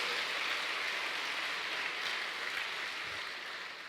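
Church congregation applauding during a sermon, a dense, fairly faint wash of clapping from many hands that holds steady throughout with no talk over it.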